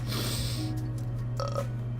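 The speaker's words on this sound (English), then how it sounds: "Oh, I don't know why I burp so much." A single throaty burp rumbles out over a low steady hum, close and fairly loud, lasting under a second before fading back to the background drone.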